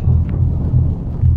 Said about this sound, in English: not the best place to be on when you have a thunderstorm